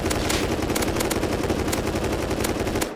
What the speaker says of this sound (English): This is the LMG.